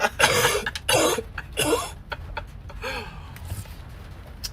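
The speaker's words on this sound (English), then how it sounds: "I wonder if those are any COVID coughs" Several phlegmy human coughs and throat clearings burst out close by in a rapid cluster, then taper into fainter, scattered coughs and breaths.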